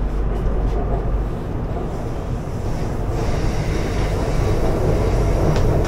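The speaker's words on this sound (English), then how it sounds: "And this is the train that goes there." A Bangkok train heading toward MBK Mall makes a steady, fairly loud rolling rumble for the whole stretch, with no talk over it.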